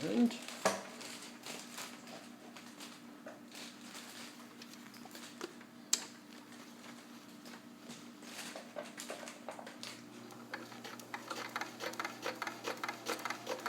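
A Kenmore 158.1941 all-metal free-arm sewing machine runs a slow straight stitch through drapery-weight fabric, with soft ticking needle strokes that speed up toward the end, near and fairly quiet, and a voice speaks briefly at the start.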